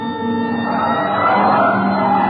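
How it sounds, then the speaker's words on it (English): A police car siren wails steadily during a radio-drama car chase, loud and continuous with engine noise beneath it. "Hit the siren."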